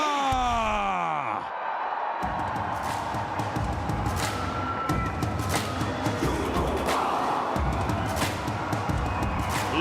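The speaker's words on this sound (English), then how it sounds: "Listen to the roar. Amidst a huge cheer and a loud round applause, U Mumba." Large arena crowd at a Pro Kabaddi League match roaring and cheering as the U Mumba team enters, a dense sustained roar with shouts and whoops throughout, beneath loud stadium music with a rising swoosh at the start.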